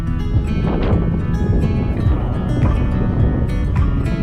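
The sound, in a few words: strong wind on a hilltop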